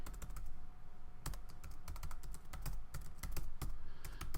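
Fingers type on a computer keyboard in quick irregular bursts of close, crisp key clicks with short pauses between, and no one speaks.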